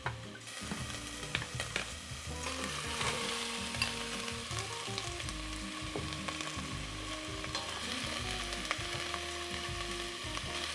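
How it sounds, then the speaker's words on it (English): Chopped onions and garlic sweat in hot olive oil in a pan, a continuous close sizzle with frequent stirring and scraping clatter throughout, steady in loudness, with no speech. "now that everything is hot, onions and garlic, we're gonna sweat it a little bit"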